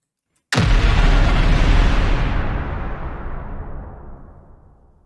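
A synthesized explosion sound effect built in the Phase Plant synthesizer with the Snap Heap modulator opens with a sudden sharp blast after brief silence, then a dense, booming roar that slowly fades over several seconds.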